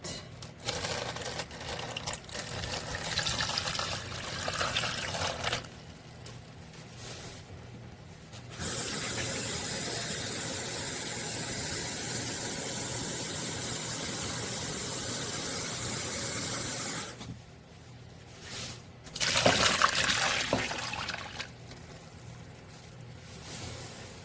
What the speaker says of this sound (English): you want to add enough water over your lengua to cover it